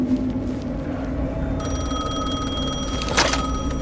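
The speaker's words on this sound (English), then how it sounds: "Wait, the phone's ringing again." A telephone in Alan Wake 2 starts ringing partway through, a bright, steady electronic bell tone over a low humming game ambience, with a brief louder burst near the end.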